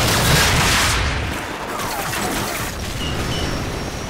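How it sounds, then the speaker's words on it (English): Stinger missile launcher firing in Call of Duty 4, a loud booming blast at the start followed by a continuous roar of battle noise and rumbling explosions, with no talking. "So, grab another Stinger and fire again."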